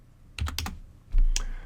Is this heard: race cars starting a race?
no